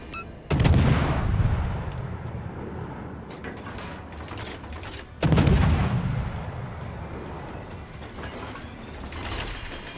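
Tank cannons fire in World of Tanks: two heavy, booming shots several seconds apart, each with a long rumbling decay, over a steady mechanical engine drone.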